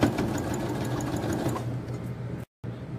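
A sewing machine stitches along the edge of a small coin purse with a fast, even mechanical whir and rhythmic needle chatter. It runs close and steady, pauses briefly near the end, then resumes.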